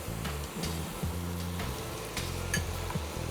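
Giant freshwater prawns fry in a pan for an Afghani-style prawn curry, a steady soft sizzle under a low hum with faint scattered clicks of a utensil.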